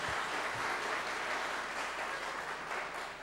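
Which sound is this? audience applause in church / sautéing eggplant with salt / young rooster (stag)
audience applause in church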